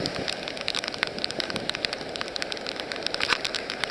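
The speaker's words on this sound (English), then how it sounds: "it's raining" Rain falls steadily along the ocean shore in Costa Rica, a dense continuous hiss with scattered close drops pattering on a surface, loud and even with no talk.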